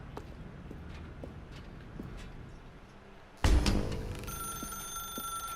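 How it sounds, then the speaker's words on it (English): A telephone rings in the video game The Stanley Parable, starting suddenly with a loud jangling bell burst that continues as a sustained ringing tone after quiet footsteps. "Now pick up the phone"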